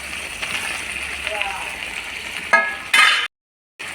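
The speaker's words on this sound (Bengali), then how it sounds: "তো এবার আলুগুলো দিয়ে দেবো।" Potatoes tipped into a pot of frying Bengali chicken curry, a steady hiss and sizzle of oil with stirring, then a sharp louder burst of splattering before a brief cut to silence.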